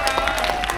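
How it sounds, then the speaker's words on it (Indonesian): Audience applause at a stand-up comedy show, a brief burst of scattered clapping from a crowd. "tepuk tangan lagi sekali buat Ibu Saikona"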